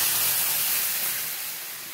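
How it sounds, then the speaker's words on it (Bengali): Boiled pumpkin and mung dal hitting a hot pan, a burst of hissing steam and sizzle that gradually fades over two seconds, close, with no voices. "তো আমি এখন সিদ্ধ করে রাখা কুমড়ো আর মুগের ডালটা দিয়ে দেবো।"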